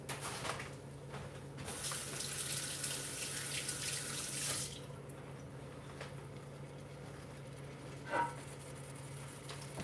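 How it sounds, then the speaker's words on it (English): A kitchen tap runs for about three seconds as hands are washed, with a clear gush of water that then stops, followed by faint room sounds and a small clatter near the end. "I gotta go wash my hands."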